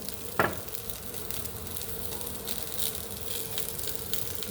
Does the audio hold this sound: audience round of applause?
no